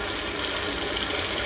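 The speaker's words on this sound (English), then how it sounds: "I'm just gonna quickly wash this underneath the sink" Steady close rush of tap water running into a kitchen sink while an avocado is rinsed under it, loud and continuous with no voices.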